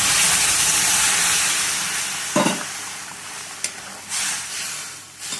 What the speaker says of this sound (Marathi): आता एक चांगली सारखा उकळी येते.